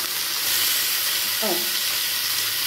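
Pieces of meat fry in rendered fat for an Egyptian okra dish, giving a steady close sizzle with a brief stirring scrape midway and no talk.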